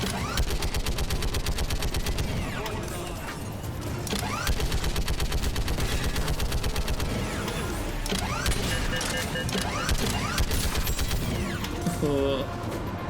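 Rapid, sustained gunfire from a weapon in the video game Mass Effect 3, dense repeated bursts running nearly nonstop, loud and close, with mechanical clicks and whirs mixed in.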